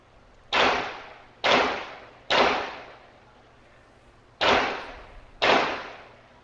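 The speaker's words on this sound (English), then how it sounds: "the Ring camera gunshot audio" Five sharp gunshots recorded by a Ring doorbell camera, cracking out in a 3-then-2 pattern, the last two after a brief pause, each with a short decaying echo; no talking.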